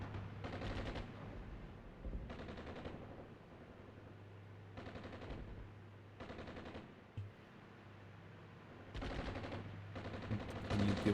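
Artillery rounds firing in a Cold War real-time strategy game near Lübeck, heard as repeated bursts of rapid cracking fire separated by quieter gaps over a steady low hum, with no talk.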